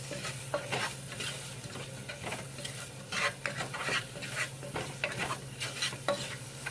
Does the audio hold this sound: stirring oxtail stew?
yes